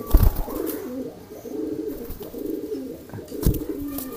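A courting racing pigeon (merpati) coos close by, delivering a series of low, throaty rolling coos in a steady rhythm, with a couple of louder wing or body thumps near the start and again toward the end.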